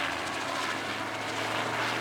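Helicopter in flight, a steady close rotor and engine drone filling the air with no pauses.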